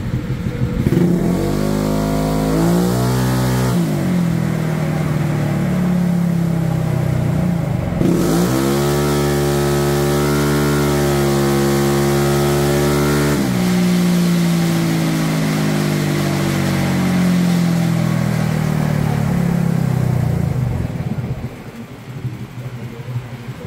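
A Honda Click 125 scooter with a remapped stock ECU revs hard on a dyno, its engine note climbing in long sweeps, falling back once and rising again, loud and close, then cutting off at the end.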